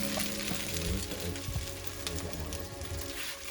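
Scrambled egg sizzles in a frying pan during a Filipino breakfast cook, a dense, steady crackle with a few clinks of utensils, close and moderately loud.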